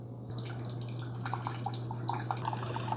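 A Chefman RJ14-UB single-serve K-Cup coffee maker running a hot-water rinse, with steady dripping and trickling water over a constant low machine hum, close and alone.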